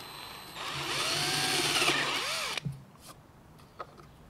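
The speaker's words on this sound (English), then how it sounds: "Got to switch to a standard twist bit now, because the brad point bit won't auto-center in these holes" A power drill with a twist bit bores into pre-drilled holes, its motor whining up and falling away over about two seconds, followed by a few light knocks and handling clatter.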